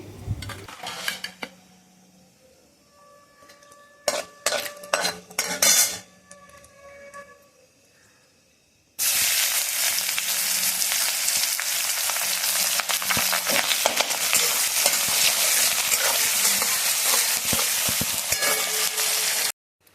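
Scattered clanks and scrapes of utensils against a wok give way to a sudden loud, continuous sizzle as chopped onion hits hot oil seasoned with black cumin, bay leaf and dry chili. The sizzle holds steady and close until it cuts off.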